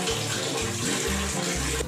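Water is poured from a dipper in repeated splashing gushes over a steady rushing backdrop, loud and close, during a Coron island-hopping trip in the Philippines.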